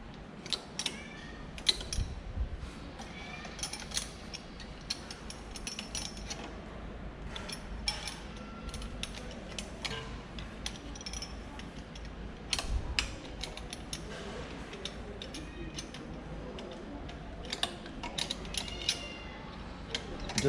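A breaker bar loosens a motorcycle bolt on a 2021 Royal Enfield Himalayan BS6, giving a long run of close mechanical ratcheting clicks and creaks with irregular louder taps.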